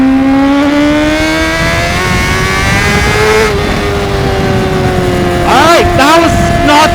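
A Honda CBR600RR sport bike accelerates hard while overtaking on a road in Croatia, its engine whine climbing steadily in pitch under loud wind rush, then a sharp rise of revs near the end.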